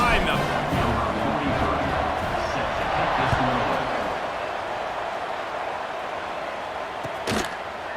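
A college football video game crowd, Oklahoma against Colorado, roaring at kickoff, a broad, steady wash of stadium noise that slowly eases, with a commentator talking over it.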